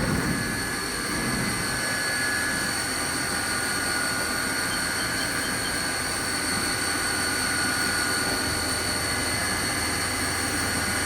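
A Haas VF3 CNC mill traversing at 5% rapid with coolant switched off makes a constant mechanical hum and whine with steady tonal lines that run unbroken the whole time, and no one speaks.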